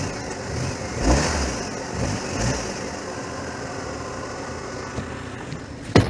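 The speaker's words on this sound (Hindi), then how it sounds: "गाड़ी डीजल की तरह साउंड करती है" Maruti WagonR 2020 CNG car engine idling, heard from outside with a rough, diesel-like clatter, steady and fairly close, with a few slight rev swells and no talking.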